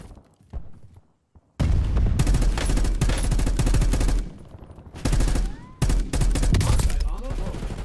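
Video game gunfire erupts in long, rapid automatic bursts after a quiet opening, loud and close, broken by short pauses between volleys, with faint voices in the background.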